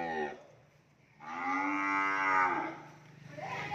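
Cattle at a cattle farm, one short moo followed by a long, loud, close bellow, then another moo beginning at the end, with no speech.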